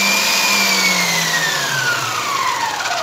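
A Silvercrest 5-liter stand mixer runs steadily and loud, its motor whine sliding gradually downward in pitch over three seconds, with no talking.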